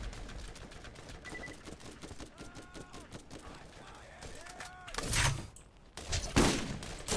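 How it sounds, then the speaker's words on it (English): Enemies fire guns in the video game Borderlands: a steady patter of distant rapid shots runs throughout, with two louder, fuller bursts near the end and game tones mixed in. "How is he still shooting at me?"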